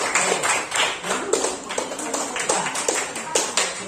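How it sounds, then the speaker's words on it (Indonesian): A classroom gives a student a round of applause, with steady, moderately loud clapping from a group of pupils for a few seconds and voices mixed in. "kita beri aplaus dulu untuk Zakifa"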